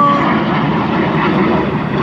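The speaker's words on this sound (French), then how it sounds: "il y a un avion de chasse qui passe au-dessus de nous" A fighter jet passing overhead, a loud, steady roaring engine rumble filling the whole stretch with no talk over it.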